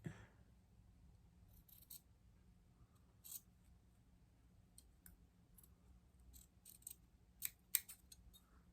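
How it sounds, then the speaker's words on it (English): Scissors snip through quilt fabric in a series of short, sharp, faint clicks spread irregularly across a quiet room. "I think I snipped that a little bit ugly right there"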